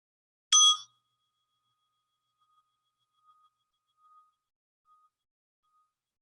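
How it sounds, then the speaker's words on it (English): A single soft bell strike rings out clearly, then fades into a long faint shimmering tail over near silence. "We'll begin with the sound of the bell."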